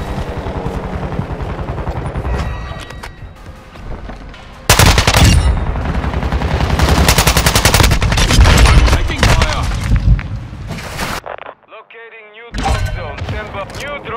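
Dense, loud automatic gunfire in Call of Duty Modern Warfare 2 rattles in long sustained bursts with heavy thuds, broken by a short silence before a final volley, with voices calling out across the fighting.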